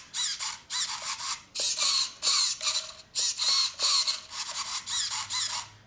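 Kyosho DST RC car running on a quick test, giving repeated bursts of high whining, buzzing motor and drivetrain noise that rise and cut off in short pulses, fairly close and loud with no talk.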